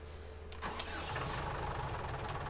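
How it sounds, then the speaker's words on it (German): A tractor engine in Farming Simulator 19 cranks briefly, then catches and settles into a steady low idle, alone and fairly close. "machen den Motor an"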